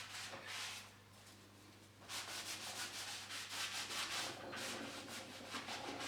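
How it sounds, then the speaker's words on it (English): A damp cloth wipes excess glue from the back of a wooden garden gate in soft, repeated rubbing strokes, close and faint, over a low steady hum, with no talk. "We can now remove any excess glue from the backside using a damp cloth."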